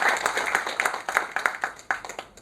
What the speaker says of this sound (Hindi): उनको तालियों से हम उनको सम्मान देते हैं।